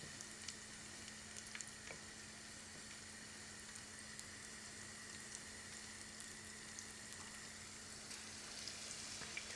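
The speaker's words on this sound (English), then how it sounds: "And then just gently fry them." Onion rings fry gently in oil, three at a time, giving a faint, even bubbling sizzle with scattered small pops and a steady low hum beneath, with no talk.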